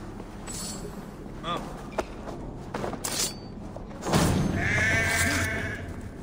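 A few sheep bleats in the video game Assassin's Creed Valhalla ring out close by amid soft thuds and footsteps, ending in a longer, louder bleat.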